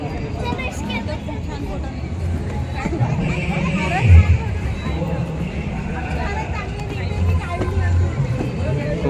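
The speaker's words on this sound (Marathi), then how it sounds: "भयंकर गर्दी आहे तुम्ही पाहू शकता" Dense, steady crowd babble fills a busy fairground, with many overlapping voices blending into a continuous hubbub and occasional louder bursts close by.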